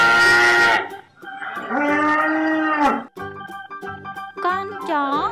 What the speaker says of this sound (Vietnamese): Bò sữa.